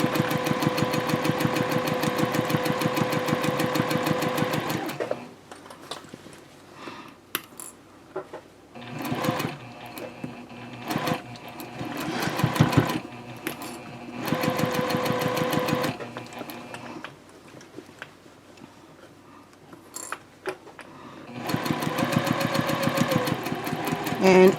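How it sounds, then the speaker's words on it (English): Sewing machine stitching a tote handbag from the inside along its edges and closure strap, running in bursts: a long steady whir at the start and end, with many short stop-start runs between pauses. "I'm sewing from the inside of the bag right now"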